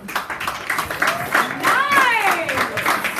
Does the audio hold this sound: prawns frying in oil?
no